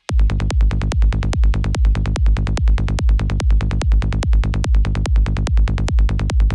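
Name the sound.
kick drum and bass line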